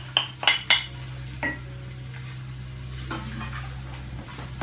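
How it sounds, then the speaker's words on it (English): Onions and leeks fry on high heat in a pan. A soft, steady sizzle runs under a few bright clinks of a utensil against the pan near the start, and no one speaks. "So we put these on a high heat and we need to fry these down for about 5 minutes."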